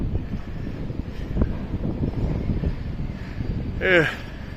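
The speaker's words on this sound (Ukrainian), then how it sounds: "Вітер дуже сильний сьогодні." Strong wind buffets the microphone in a low continuous rumble while a person talks, with a brief high squeal near the end.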